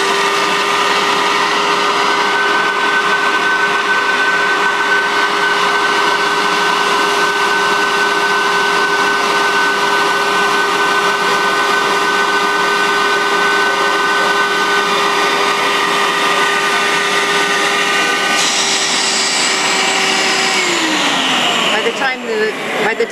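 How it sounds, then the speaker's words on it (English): A Nitty Gritty record cleaning machine's vacuum sucks fluid off a vinyl record at a trade show, a loud steady whine with a constant tone that holds for about twenty seconds, then its pitch drops as the motor winds down. "and then turn the vacuum on."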